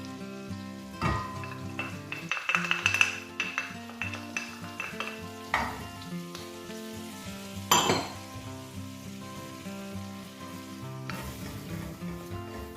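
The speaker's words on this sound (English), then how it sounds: "you want to mix that together and let that cook out for about 2 or 3 minutes" A butter and flour roux for lobster thermidor sauce cooks in a pan, sizzling softly while a utensil stirs it with occasional clinks against the pan, under steady background music.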